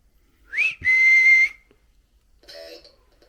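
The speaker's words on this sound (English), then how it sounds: "I heard that whistle just now" A clear whistle sounds during a ghost hunt in a dark house, rising into a sustained steady tone, followed a moment later by a fainter second whistle.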